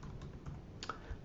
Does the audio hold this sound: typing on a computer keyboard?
yes